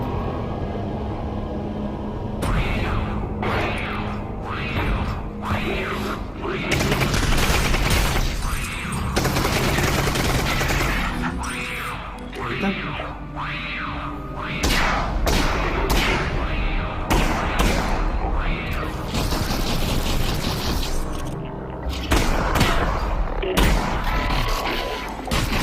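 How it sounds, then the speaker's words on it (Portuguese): Gunfire in a VR video game trailer, with repeated loud shots and bursts arriving in clustered volleys, mixed with booms and crashes in a dense, cinematic soundscape. "Atirar em VR é muito satisfatório"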